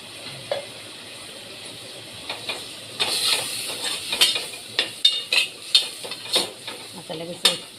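Tomatoes, curry leaves and coriander dropped into a hot pan for khichdi, a soft hissing sizzle with irregular stirring clatters and scrapes growing busier partway through.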